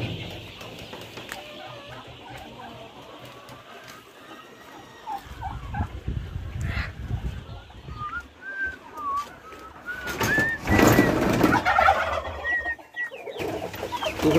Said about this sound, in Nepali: कुखुरै कुखुरा छ हेर्नु यता कुखुरा उता कुखुरा यता टर्की